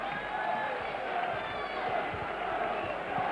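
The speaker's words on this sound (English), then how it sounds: "The crowd are going wild down there. They're chanting and cheering." Rugby league crowd at a Workington Town match chanting and cheering, a dense, steady roar of many voices filling the stadium throughout without breaks.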